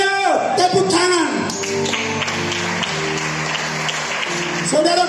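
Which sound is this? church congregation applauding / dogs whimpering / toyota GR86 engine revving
church congregation applauding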